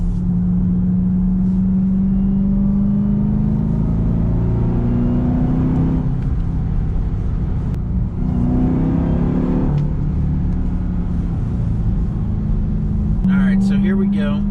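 A 2021 Dodge Durango Hellcat with all-wheel drive and the Hellcat V8 is driving: a loud, continuous engine rumble that swells in a couple of revving surges, with a voice talking over it.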